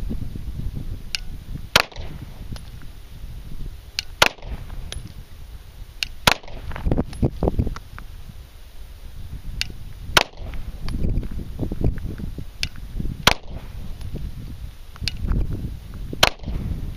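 Pistol shots fired at a target 50 yards away on an outdoor range, about eight sharp cracks spaced slowly a couple of seconds apart over a steady background rumble, with no talking.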